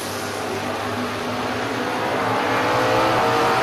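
Drag race cars at a Money Tree event, including a 1972 Chevy Nova, roar steadily and loudly, with engine noise building slightly toward the end.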